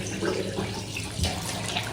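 A tap runs steadily while a face is rinsed clean of foaming cleanser at a sink, producing a continuous close hiss of running water with faint splashes.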